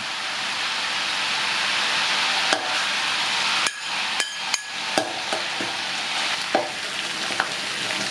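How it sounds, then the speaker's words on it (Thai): Garlic sizzles steadily in rendered fat from pork belly in a pan, a continuous frying hiss broken by a handful of sharp utensil clinks and taps, close by with no voices. "ตอนนี้หมูสามชั้นเรามีน้ำมันออกมาแล้วหลังจากนั้นก็ให้ตามด้วยกระเทียมนะครับ"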